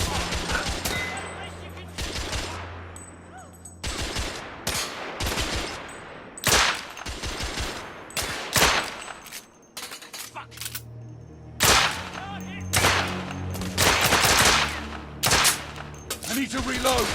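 Heavy gunfire from a firefight in The Order: 1886, with dense bursts of shots and rapid volleys in clusters, loud and close, mixed with game sound and brief voices.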